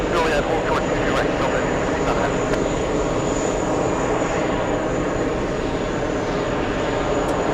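A South Korean government Boeing 747 arriving at JFK makes a sustained, heavy jet rumble and roar that stays loud throughout, with talk running underneath.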